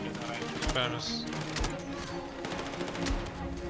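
Rapid gunfire in the video game Battlefield 6, dense bursts of automatic shots and impacts crowding the mix, with an excited voice talking over the action.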